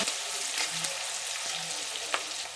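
Steady, close-up sizzling of capsicum frying in hot oil and butter for pav bhaji, a dense crackle with a few soft stirring clicks, no voices.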